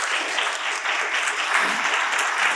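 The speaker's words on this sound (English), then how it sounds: "let's give a round of applause for our panelists" A conference audience applauds a panel of speakers, a dense, even wash of many hands clapping together that holds steady from start to finish.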